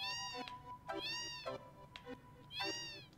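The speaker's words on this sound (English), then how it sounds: "You have a cat." A cat meows three times in a row, clear, close and fairly soft, with short gaps between the calls and no speech over them.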